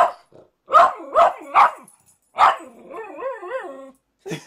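A puggle barks up close in a burst of sharp, loud yips, then lets out a wavering, howling whine before one last bark.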